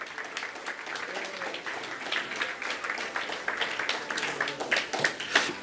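A church congregation clapping, a spread of scattered, uneven hand claps at moderate distance that build slightly toward the end, with no voices over them.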